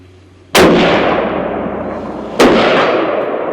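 Two loud, sharp long range rifle shots crack about two seconds apart, each followed by a long rolling echo that fades across open ground.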